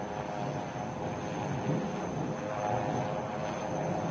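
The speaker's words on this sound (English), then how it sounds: "These indigenously designed and developed advanced light helicopter is twin-engine, multi-role, multi-mission, new generation helicopter developed by HAL Bengaluru" HAL twin-engine advanced light helicopter, a multi-role naval machine, flying during a Navy Day operational demonstration; a steady, continuous engine and rotor roar that sounds moderately distant, with no talk over it.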